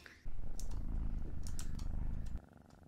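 People imitating a cat purring with their voices, a low rumbling buzz held for about two seconds, close and steady, with faint clicks over it.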